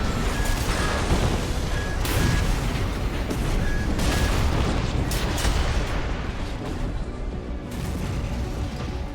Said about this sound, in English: I got some air on that explosion.